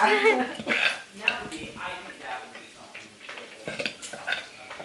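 Thai papaya salad being pounded in a mortar at home, a run of irregular knocking and clattering strikes close by, with someone talking over much of it.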